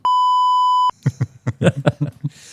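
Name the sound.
censor bleep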